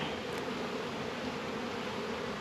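A dense swarm of worker bees at a hive buzzes continuously, a steady droning hum close by with no pauses or voices.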